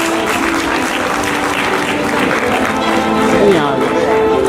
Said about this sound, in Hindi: सम्मान के लिए तालियां तो बनती ही हैं।